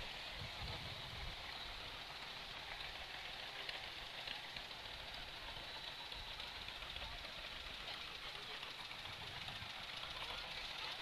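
An old John Deere tractor engine running in a Christmas parade, a steady, continuous mid-pitched rumble with a faint knocking texture, heard outdoors from a moderate distance without talking.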